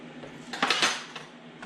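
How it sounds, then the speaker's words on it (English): A measuring cup, just used for apple cider vinegar, is rinsed and dried while scones are being made, producing a few light clinks and knocks that cluster in the middle, set over quiet kitchen room tone. "rinse and dry your measure because you're going to need it again"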